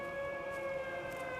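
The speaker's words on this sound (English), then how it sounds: "So right now we're hearing this air raid siren thing" A steady, sustained wail of an air raid siren in the video game Everybody's Gone to the Rapture, holding a constant pitch, fairly loud and uninterrupted, with no voices.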